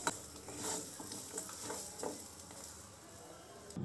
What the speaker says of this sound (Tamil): இது எல்லாத்தையும் சேர்த்து மிதமான அடுப்பு அனலில் சூடாகிற வரைக்கும் வறுத்து எடுத்துக்கலாங்க.